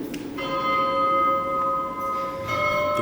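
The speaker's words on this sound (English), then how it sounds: "That's the bells of Notre Dame." Bells of Notre Dame cathedral in Paris ring out across the open air, sustained tolling tones swelling and overlapping with a second strike near the end, heard alone without talk.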